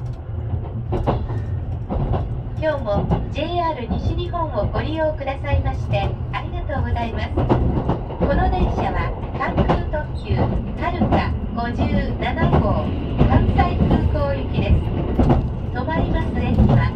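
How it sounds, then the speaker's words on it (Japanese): Limited express Haruka rolls out of Shin-Osaka station onto a freight line, a steady low rumble with rhythmic wheel clacks and squeals from inside the car, while someone narrates over it throughout. "さあ列車は新大阪駅を出発しました。"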